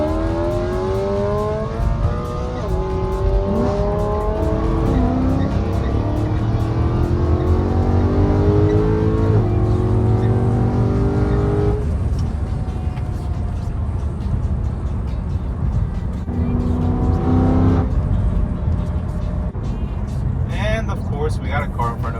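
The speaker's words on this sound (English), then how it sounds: "So his car is really loud, as you guys can tell." Straight-piped BMW E92 M3 driving, its loud raw exhaust rising and falling through repeated revs and gear changes, heard from inside the car with people talking over it.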